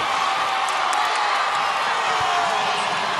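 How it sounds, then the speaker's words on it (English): Crowd at a high school state championship basketball game roars in a steady wash of cheering and shouting, with a few whoops and claps mixed in. "You'll hear reaction from the crowd there."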